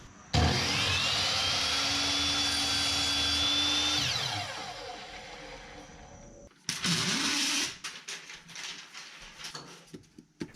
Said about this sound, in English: Straight crosscuts are easily made with my miter saw.